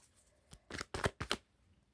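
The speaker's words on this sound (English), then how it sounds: "I'm shuffling off camera" Tarot cards shuffled by hand in three or four short, crisp riffling bursts, close and fairly quiet, without speech.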